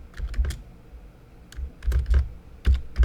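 Bursts of typing on a computer keyboard, quick clusters of close, crisp key clicks separated by short pauses, with no talk over them.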